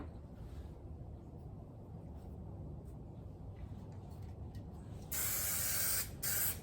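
An aerosol spray hisses onto an upholstered car door panel, a loud steady burst near the end, then a shorter second burst, over low background noise.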